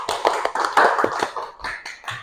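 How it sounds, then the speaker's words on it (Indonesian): Applause in a classroom, a short burst of claps from students that rises and falls over a couple of seconds at close range. "Ya, tepuk tangan."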